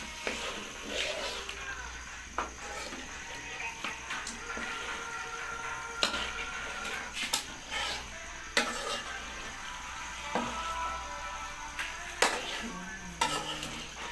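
Chicken coated in spices frying in a pan, soft sizzling under repeated scraping and stirring clatter from a utensil, fairly quiet and close, with a voice talking intermittently.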